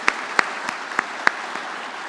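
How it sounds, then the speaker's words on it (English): A few sparse, separate hand claps for finalists at a student oratory competition, about six sharp slaps spaced unevenly, close and fairly loud against a quiet background. "a round of applause again to all the finalists"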